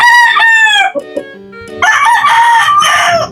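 A pure white Kelso straight-comb rooster crows loudly and close, one long call, then a second crow after a short gap.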